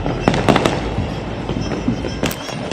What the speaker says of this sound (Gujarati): ઉત્તરાયણમાં બહુ મસ્ત કરવા તો ફટાકડા તો ફૂટે